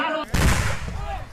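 Gunfire during a violent clash between Assam and Mizoram police at the Lailapur border: a loud burst of shots and rumbling noise follows a brief quieter moment, with a chaotic crowd-like wash continuing behind it.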